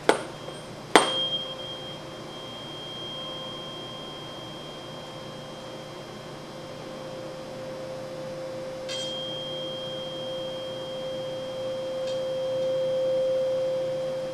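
A sharp tap, then a steady pure tone hums and swells at a resonance tube's second resonance, sustained and fairly faint, with a couple of soft clicks.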